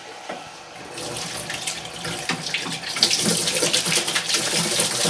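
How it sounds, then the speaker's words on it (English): Cold water runs steadily from a tap into the tub of a Good Ideas compact twin tub washing machine, a close, continuous gushing splash that grows slightly fuller as the tub fills. "I'll put some cold water in now just to rinse out the tub."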